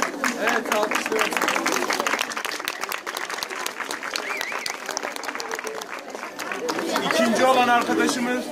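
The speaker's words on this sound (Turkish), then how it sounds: "Evet, alkışlıyoruz." Steady, dense applause from an audience at a school award ceremony fills the room for several seconds, swelling slightly toward the end, with voices talking through and over the clapping.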